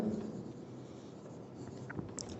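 Close scratchy writing of notes on paper during a maths lecture, continuous light strokes that stay fairly even and quiet, with no voice.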